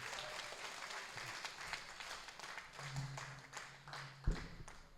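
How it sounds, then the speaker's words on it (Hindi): Audience applause at an international mushaira poetry gathering in Deoband, a dense steady wash of clapping from a crowd lasting throughout, with a sharper burst near the end. "एक बार ज़ोरदार तालियां पूरी टीम के लिए।"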